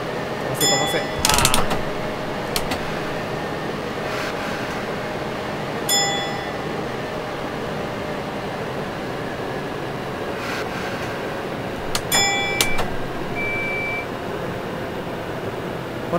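An express train on the Tokyu Den-en-toshi Line accelerates in a train simulator game, giving a steady rumbling drone with occasional clanks and brief electronic chimes.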